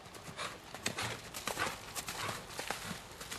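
A horse cantering in an extended canter during a jumping lesson, its hoofbeats a steady, rhythmic clip-clop heard from a moderate distance over soft background noise.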